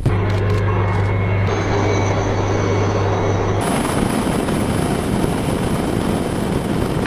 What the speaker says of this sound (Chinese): 巴基斯坦的沙姆希尔号导弹护卫舰上的直升机第一个起飞